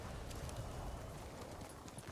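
Horse hooves clip-clopping in the video game Ghost of Tsushima, a quiet, rapid patter of steps under faint background ambience, steady across the moment without speech.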